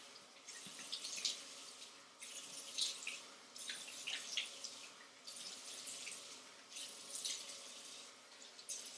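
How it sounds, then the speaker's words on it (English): Warm water runs from a tap into a bathroom sink, splashing in steady bursts broken by short pauses as hands catch and splash it, fairly close and quiet, with no talking. "Splash the water."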